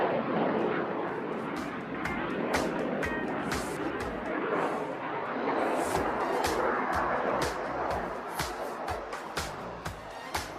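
An IJT trainer jet flies a loop at the Aero India air show over Yelahanka Air Force Station, a loud, continuous roar of engine noise with crowd and wind rumble and a commentator speaking over it.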